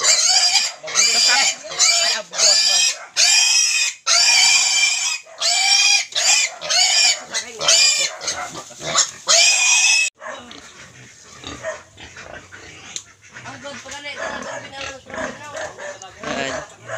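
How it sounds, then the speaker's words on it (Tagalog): Native pigs oink and squeal loudly and continuously on a Philippine village farm, dense overlapping grunts up close, later settling into quieter mixed farmyard noise with people talking in the background. "Daming baboy."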